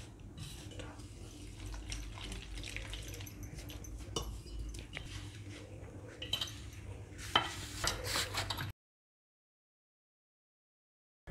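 Puri dough is mixed and kneaded with a little water in a bowl, producing wet squelching, stirring and occasional clinks for several seconds before stopping abruptly into silence.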